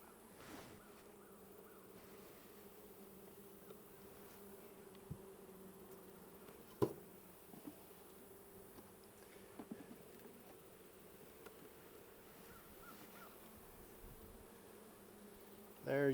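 Honey bees hum steadily around an open hive during an inspection, a soft continuous buzz with faint rustles and a few light knocks of handling.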